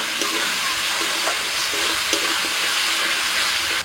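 Spice paste of turmeric, Kashmiri chilli powder and green chilli paste sautéing in a pan for a home-style potol chingri curry, a steady close sizzle with soft stirring scrapes throughout and no talk.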